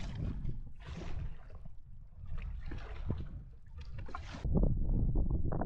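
A kayak cruises along the shore of Astotin Lake, with paddle strokes and water swishing and splashing against the hull amid wind rumble, steady and close throughout.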